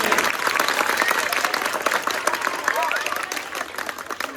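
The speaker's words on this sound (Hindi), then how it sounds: "एक बार मैम के लिए फिर से ताली बजाओ।" Students at a school theatre-in-education event clap and applaud together, a loud dense burst of clapping from a crowd that thins slightly toward the end.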